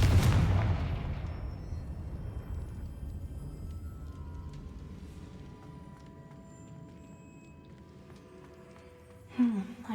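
A big booming blast from the Confringo explosive spell in Hogwarts Legacy, loud at first and then decaying into a long rumbling tail, followed by a brief sharper sound near the end.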